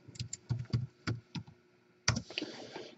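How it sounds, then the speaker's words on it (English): Typing on a computer keyboard: several separate bursts of keystrokes, close and fairly quiet, with a longer, busier stretch of clattering keys toward the end and no talk. "Let's go down here and type live"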